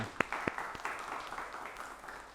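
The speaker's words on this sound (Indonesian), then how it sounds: "Tepuk tangan untuk kita semua." Audience applause at an Indonesian lecturer certification session, a few sharp claps at first then a softer scattered patter of hands that fades, with no voices over it.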